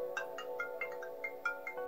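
Ringtone from a replica Samsung Galaxy Watch Ultra smartwatch: a quiet, steady electronic tone with a quick repeating chirpy pattern of beeps, heard alone.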